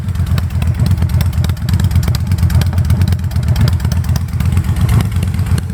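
Victory Jackpot Arlen Ness custom motorcycle with a big engine running warm, a loud, close, steady throbbing rumble with lumpy pulses throughout and no talking.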